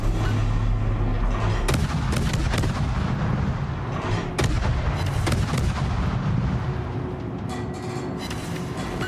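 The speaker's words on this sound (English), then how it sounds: "Should always use our broadsides, because that's where our guns are." Warship naval guns fire broadsides in World of Warships with a deep, rumbling battle din, heavy booming blasts repeating at irregular intervals over a continuous low roar.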